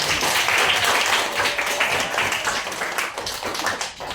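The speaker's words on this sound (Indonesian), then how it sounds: "Tepuk tangan untuk" A classroom of students applauds a classmate named Jasmine after her reading, a dense, steady burst of many hands clapping close by, sustained for several seconds before easing slightly at the end.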